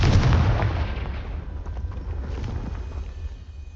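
The Confringo fire spell from the Hogwarts Legacy video game erupts in a loud, booming fiery blast that then rumbles and fades away over a few seconds.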